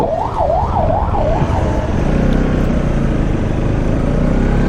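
An ambulance siren wails on a road between Mugling and Narayanghat in Nepal, its rising and falling tone clear at first and then sinking under loud, steady engine and road rumble from a moving motorcycle.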